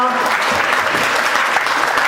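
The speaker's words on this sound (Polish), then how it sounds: "Wielkie brawa!" Loud, dense applause from a conference audience at the first FM GROUP national conference, sustained for the whole stretch, with a voice briefly audible at the start.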